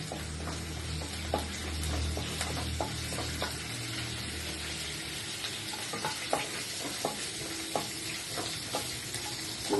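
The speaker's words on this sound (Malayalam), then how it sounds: "കടുക് പൊട്ടിക്കഴിഞ്ഞ്" Mustard seeds splutter in hot oil for jackfruit thoran, a close, steady sizzle broken by scattered sharp pops and crackles that come irregularly from start to finish.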